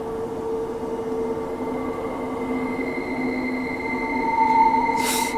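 A Transperth A-Train electric train runs slowly with a steady hum, sustained tonal whine and faint wheel squeal, staying close and even, then a brief hiss bursts near the end.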